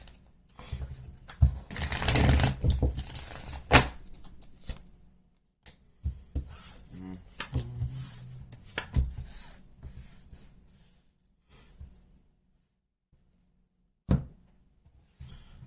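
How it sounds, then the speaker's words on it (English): Tarot cards are shuffled in several bursts of crisp riffling and flicking, separated by pauses and near silence, close up with no talking. "Let's get one more shuffle here."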